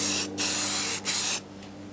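Aerosol primer sprayed onto an antique Hallicrafters R-46 speaker cabinet in two close, steady bursts of hissing spray, with a brief gap between them and a quieter tail at the end.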